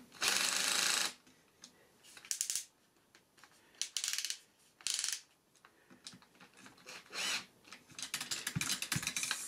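A battery-powered electric screwdriver drives screws into a Thunder Tiger S 50 RC helicopter, whirring in several short bursts of about a second each separated by quiet gaps and light clicks, close up and alone.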